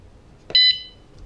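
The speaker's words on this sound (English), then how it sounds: "turn that on, that arms the alarm." A bicycle tail light's alarm gives one short, sharp electronic beep, loud against near silence.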